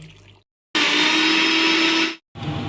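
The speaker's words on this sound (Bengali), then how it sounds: "প্রথমে একটু শুকনো গুঁড়িয়ে নিয়ে তারপর দুধটা দিয়ে পেস্ট বানিয়ে নিচ্ছি।" An electric blender grinds spices with milk into a paste in a loud, steady whirring burst of over a second, stopping and then restarting briefly after a short pause.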